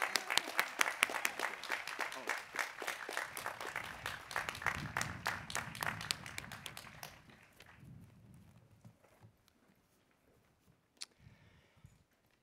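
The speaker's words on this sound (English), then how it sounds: "I'm just going to ask for a special round of applause for Dion" Audience applause at a college graduation ceremony, dense clapping from a large crowd that fades away over the last few seconds, leaving scattered claps and murmurs.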